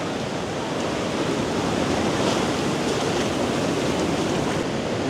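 Sea waves surging at high tide on a Koh Samui beach, a loud, continuous roar of surf with steady broadband wash and no voices.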